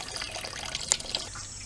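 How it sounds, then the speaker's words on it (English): Sparge water trickling over a bed of brewing grains during homebrewing, a soft steady wash of running water with faint drips, quiet and continuous. "trickle about 4 gallons worth of water, or until this is about full"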